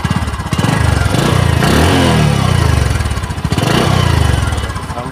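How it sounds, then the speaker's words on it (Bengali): A Bajaj Discover 125 cc motorcycle at 4,819 km in fresh condition runs up close, its single-cylinder engine thumping loudly and swelling through two revs before settling back. "ইঞ্জিন সাউন্ড কোয়ালিটি দেখুন, একবারে ফ্রেশ কন্ডিশনে আছে দাদা।"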